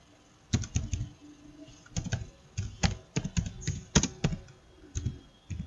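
Typing on a computer keyboard, close and clear: irregular bursts of sharp key clicks with brief pauses between words, no voices.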